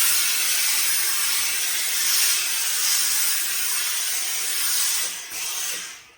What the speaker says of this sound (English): So let's put a bit more steam, because the steam will reactivate the stiffness in the hat.